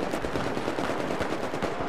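Rapid gunfire in an online shooter game rattles on without a break, dense and fairly loud, with no talk over it.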